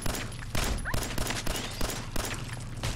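Gunfire in the Fallout 4 game during a fight with a Mirelurk, a steady series of sharp, loud shots roughly every third of a second over a dense noisy background.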